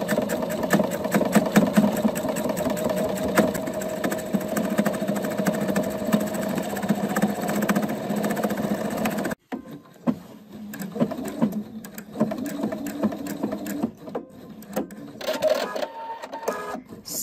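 A sewing machine darns a hole in a cotton jeans pocket bag with a cotton patch underneath, making fast, loud, rhythmic stitching for about nine seconds. It then stops sharply, leaving quieter handling sounds and soft clicks.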